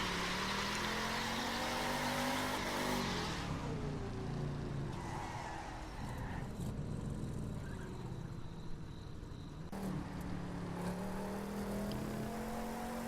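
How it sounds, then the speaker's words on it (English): A car drifting using the accel-off technique, the engine droning and revving continuously with shifting pitch as it slides, tyre noise mixed in, heard from a steady distance without speech. "Accel off is just basically getting the car to go on its own."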